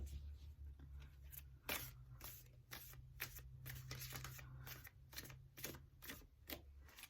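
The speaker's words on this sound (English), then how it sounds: "These are so hard to shuffle." Tarot cards being shuffled by hand, a quiet, close series of short riffling bursts and flicks that come in an irregular rhythm, separated by brief pauses.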